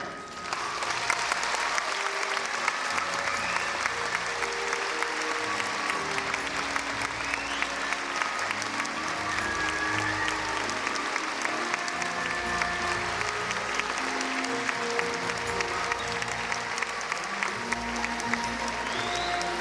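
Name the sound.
audience applause after performance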